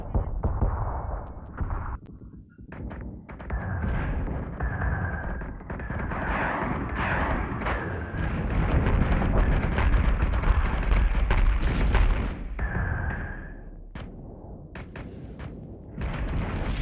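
Ship cannon batteries fire in the Battlestar Galactica Deadlock space combat game as a long, rumbling run of booms and blasts, with game voices and tones appearing throughout.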